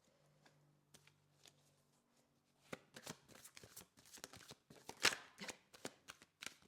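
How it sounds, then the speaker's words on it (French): A deck of cards is shuffled, starting with faint scattered ticks and building into a dense riffle of crisp, close flutters and snaps. "Allez, je vais prendre 5 cartes."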